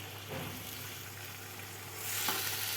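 Tomatoes sizzle softly in a pan while being cooked down for a village-style chicken biryani, a faint steady frying hiss with a slight stirring scrape, growing a little louder toward the end.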